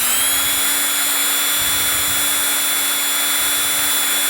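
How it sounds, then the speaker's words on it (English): A drill at medium speed drives a fan-type mixing paddle through U-Seal concrete sealer, giving a steady, continuous whirring drone with a constant pitch and no break or talk. "we use a fan type mixing paddle and a drill on medium speed"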